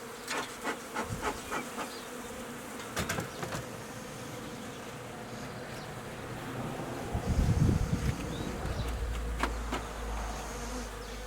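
Honey bees buzz steadily around an opened spring hive during a nuc inspection, a low continuous hum with sharper buzzes from nearby bees, plus a few handling knocks and a louder rumble near the end.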